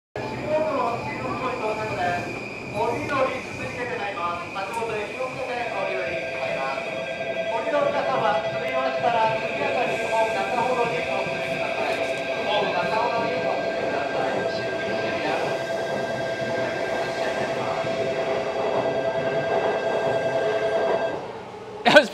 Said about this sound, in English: when this train leaves